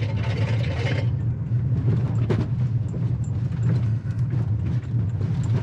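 A 2022 Toyota Corolla Cross drives off road through tall weeds, its steady engine and tyre rumble loud and constant, with brushing and thumping from the undergrowth throughout.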